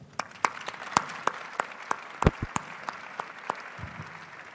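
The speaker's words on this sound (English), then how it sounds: "I would kindly ask you for an applause for an excellent panel" A conference audience gives a modest round of applause for a keynote speaker and panel, with sparse, distinct claps from a small crowd rising and then thinning out, no voices.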